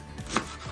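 A dull kitchen knife gives a single soft chop through food, brief and fairly close, with no talk.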